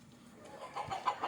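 A country chicken gives a few soft, short clucks, faint and close by amid low background noise.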